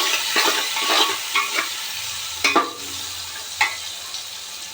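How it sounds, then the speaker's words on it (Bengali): Onions fry in hot oil in a pan for biryani, giving a loud, continuous sizzle close by, broken by several scraping stirs of a spoon. No one speaks. "এবার ওই তেলে আমি পেঁয়াজগুলো ভেজে নিচ্ছি।"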